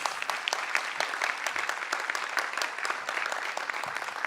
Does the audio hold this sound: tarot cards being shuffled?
no